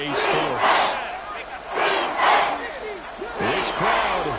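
Stadium crowd in an EA Sports football video game, a dense roar of many voices chanting and yelling in rhythmic surges that swell and ebb, with a commentator's voice talking over it.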